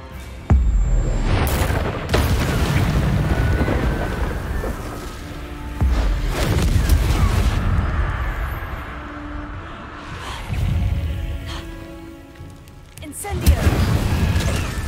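Spells explode in the video game Hogwarts Legacy as several loud booming blasts and crashes, spaced a few seconds apart, with voices speaking between and over them.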